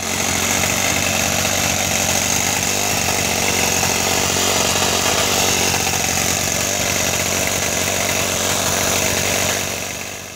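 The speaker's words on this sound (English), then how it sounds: "When the bonnet is slid on, the cooling fans switch on." Cooling fans on a live diesel garden railway locomotive run with the bonnet in place, making a loud, steady whirring drone mixed with engine hum close by, fading slightly at the very end.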